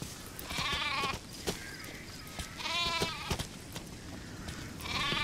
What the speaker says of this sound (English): there is some type of reaction program for sheep when you're just shoving them around, because they protest